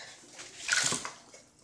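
Bathwater splashes briefly while a dog is washed in a tub: a short, soft slosh that rises and fades within about a second, fairly quiet and close.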